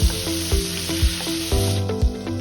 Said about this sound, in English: 1 tablespoon of oil and 2 tablespoons of butter and allow the butter to melt